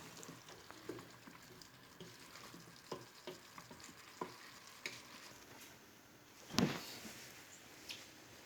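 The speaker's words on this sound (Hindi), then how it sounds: "थोड़ी देर के लिए गोभी को इसमें भूनेंगे" Cauliflower and potato stir-frying with spices in a pan for aloo gobi, a steady close sizzle broken by repeated stirring scrapes, with one louder clatter near the end.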